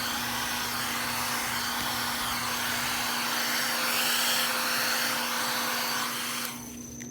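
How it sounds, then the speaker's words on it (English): A hair dryer blows steadily and loudly as it spreads paint across a canvas and its sides, a continuous airy whir that drops off near the end. "I'm using my blow dryer to spread the paint."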